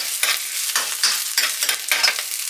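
Garlic browning in a hot frying pan for dinengdeng, stirred in a steady rhythm of bright scraping, sizzling bursts that rise and fall about every half second, close and fairly loud with no voices.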